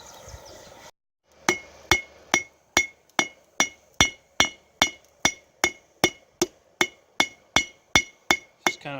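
Hot metal being forged with a hammer on an anvil, a loud, evenly paced series of about seventeen ringing metallic strikes close by, following a brief pause after some opening noise.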